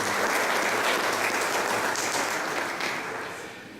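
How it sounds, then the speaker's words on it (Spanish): Loud, sustained applause from an audience at a formal welcome event on oil, economy and the state, continuous clapping that slowly fades toward the end. "Demos también un fuerte aplauso"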